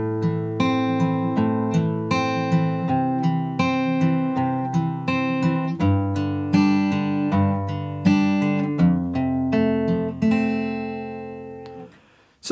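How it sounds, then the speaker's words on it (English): Fingerpicked acoustic guitar plays the intro of a song: steady plucked arpeggios with ringing bass notes and clear picked trebles, close and solo, ending with a brief fade and a small knock. "If we put the whole of the intro together, it sounds like this."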